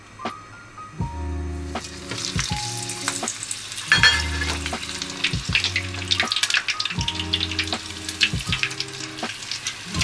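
Panko-breaded food deep-fries in hot oil with a steady, dense crackling sizzle throughout, close and moderately loud, with a few lower knocks and clunks from handling in the kitchen.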